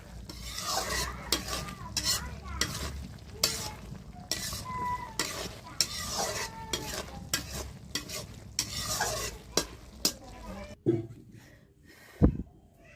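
A spoon stirs a bottle gourd and prawn curry with coriander leaves in a pan, making repeated scraping strokes over a gentle sizzle, then a few louder clanks as it ends.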